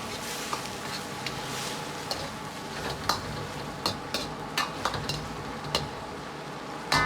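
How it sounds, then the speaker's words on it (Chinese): A spoon stirs potatoes and green beans in a pot, giving a run of sharp clinks and scrapes over a soft simmering hiss, close and fairly even in rhythm. "用勺子翻匀后，盖上锅盖"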